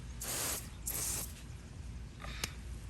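Water from a garden hose sprays over a lawn in two short, loud hissing bursts, followed by quieter rustling and a brief click.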